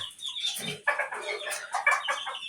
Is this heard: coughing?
no